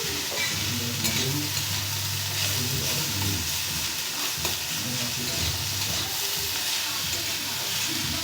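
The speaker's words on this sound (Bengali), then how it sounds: "সবজি মোটামুটি ভাজা হয়ে গেছে।" Vegetables with chilli and onion frying in oil for pasta, a steady broad sizzle with intermittent stirring and scraping, close and continuous throughout with no talk.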